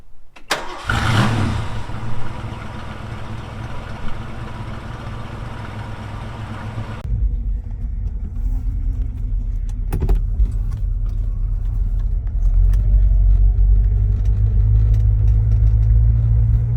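A 1966 Ford Mustang engine cranks briefly and catches, settling into a steady, loud low idle that swells slightly near the end, with a sharp click partway through and no talking.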